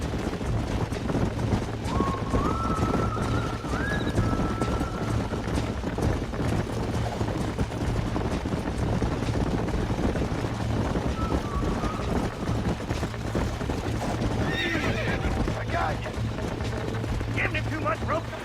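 A wild horse in Red Dead Redemption gallops with rapid hoofbeats and gives brief whinnies amid game sound, continuous and fairly soft, with voices talking over much of it.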